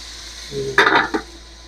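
Winged beans (sigarilyas) stirred in a frying pan: a short scrape of the utensil against the pan with a brief sizzle and clatter, close and alone.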